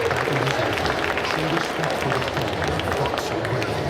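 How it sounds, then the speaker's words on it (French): An audience at a video game competition applauds an eliminated player, dense continuous clapping mixed with crowd hubbub and cheering, loud and close throughout. "on peut l'applaudir bien fort"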